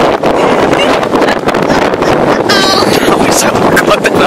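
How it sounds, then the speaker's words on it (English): Strong outdoor wind on a cold day outside an apartment complex, roaring and buffeting the microphone as a steady, loud broadband rush for the whole stretch with no breaks. "It's windy out here today"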